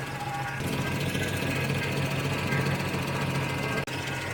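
A 1970 Oldsmobile barn-find engine idles with a fuel leak, a steady mid-pitched running drone with a faint rhythmic tick, close by and unbroken until a brief dropout near the end.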